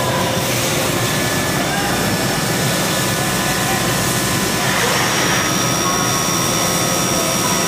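A 2006 Haas VF-2SS CNC vertical machining center spindle runs with a loud, steady broadband whine and a constant tonal hum, changing pitch slightly partway through as the speed shifts.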